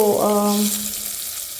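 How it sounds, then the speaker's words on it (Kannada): Green chillies, garlic, curry leaves and turmeric fry in a pan with a steady, close sizzle that continues throughout, following a brief tonal sound at the start. "ಹಸಿಮೆಣ್ಸಿನ್ಕಾಯಿ ಹಾಕ್ಕೊಂಡೆ, ಬೆಳ್ಳುಳ್ಳಿ ಹಾಕ್ಕೊಂಡಿದ್ದೀನಿ, ಕರಿಬೇವು, ಸ್ವಲ್ಪ ಅರಿಶಿನ ಹಾಕ್ಕೊಂಡು ಫ್ರೈ ಮಾಡ್ಕೊಳ್ಬೇಕು ಚೆನ್ನಾಗಿ"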